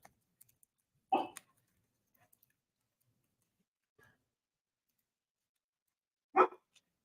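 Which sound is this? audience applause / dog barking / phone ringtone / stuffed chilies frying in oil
dog barking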